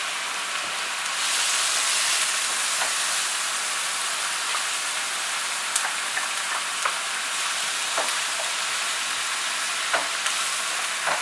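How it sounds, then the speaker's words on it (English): Chopped onions and celery sizzle steadily in a hot pan while being cooked down for lumpia, a continuous bright frying hiss with occasional soft stirring taps, close and alone with no talk. "Cook this down until the onions are opaque and the celery is softened."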